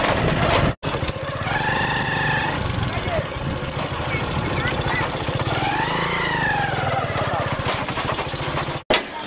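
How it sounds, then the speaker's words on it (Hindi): Motorcycle engine droning steadily on a road while riding behind it, a continuous mid-pitched hum throughout with brief dropouts, with voices talking over it. "आगे जो बाइक जा रही है ना"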